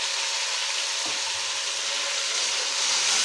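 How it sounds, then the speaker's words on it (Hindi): Frozen, crushed tomatoes fry in a pan for an aloo moongary dish, giving a steady soft hiss of sizzling oil that holds evenly throughout with no talk. "टमाटरों को हम थोड़ा सा पका लेंगे।"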